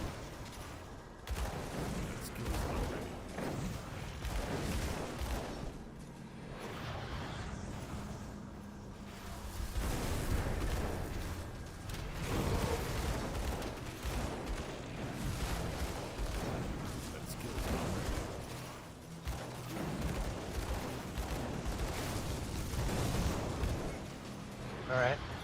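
Rapid gunfire in a tower defense video game, with dense overlapping bursts and heavy booms that run steadily throughout, loud and close, with a player talking over them at times.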